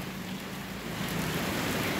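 Rain falls steadily in Guajará-Mirim, Rondônia. A dense, even hiss of drops grows slightly fuller and louder over a couple of seconds as the light shower thickens.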